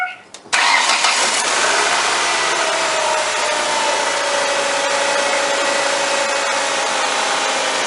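A 2003 Ford Focus with a 2.0L SPI engine cranks briefly, catches and then settles into a loud, steady idle close by, just after a new belt has been fitted.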